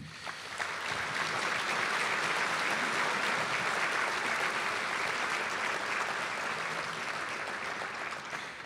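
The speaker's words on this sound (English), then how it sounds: "give a round of applause to everybody who's made this evening possible" Sustained applause from a dinner audience at a formal banquet, a full, even roar of many hands clapping that begins abruptly and holds steady throughout.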